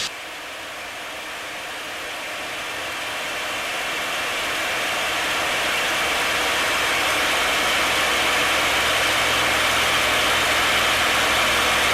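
A P-51 Mustang fighter's engine drones inside the cockpit during a zoom climb, a loud broadband roar with airy rushing noise that swells gradually and then holds steady.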